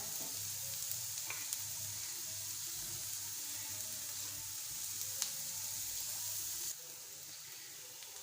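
Onion and garlic fry in a pan for chicken lasagna, giving a steady, fairly quiet sizzle throughout with faint stirring scrapes, which drops abruptly softer near the end; no voices.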